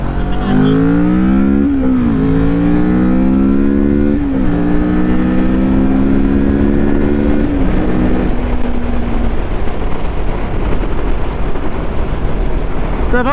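A 2016 Kawasaki Vulcan 650 S motorcycle engine accelerates hard, its note rising smoothly through several gear changes before settling into a rushing, windy roar; loud and close, with no speech.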